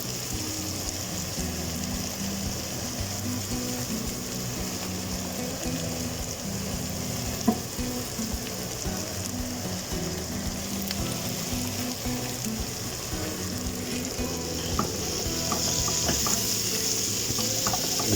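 Chorizo fries in oil in a pan, a constant close sizzle with occasional scrapes and knocks as it is stirred, alone without speech.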